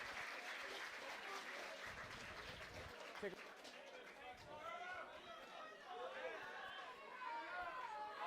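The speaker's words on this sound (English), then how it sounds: "It's being applauded off the pitch." A rugby crowd applauds as an injured player is carried off the pitch at a cup final between Garda College and IT Carlow, steady clapping and chatter spreading across the stands while a commentator talks over it.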